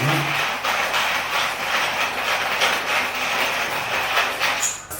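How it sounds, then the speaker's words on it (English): Coffee beans ground by hand in a manual grinder, a dense, continuous gritty crunching and rasping that runs loud and steady close by, with no talking. "It's not easy to grind, but you need to grind by force."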